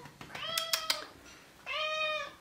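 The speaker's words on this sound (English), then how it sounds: "That's my really loud cat." A loud house cat meows indoors, two drawn-out calls with a brief gap between them, close to the listener and heard on their own with no talking.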